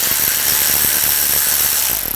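A ratchet with a T20 socket clicks rapidly and steadily, close and loud, while removing screws from an interior panel on a 2004-2009 Audi A4, the clicks slowing slightly at the end.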